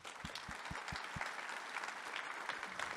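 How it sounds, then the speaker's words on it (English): Applause from the audience at the DrupalCon Europe opening ceremony in Barcelona, a fairly quiet, continuous wash of clapping with a few low thumps near the start. "So give them a big clap,"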